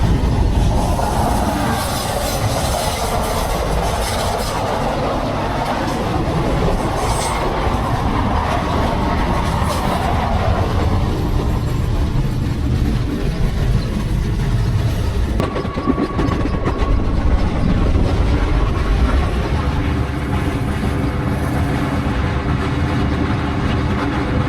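A train overtaking the Sabari Express rumbles steadily and loudly alongside, with constant rail and wheel noise and a brief squeal partway through.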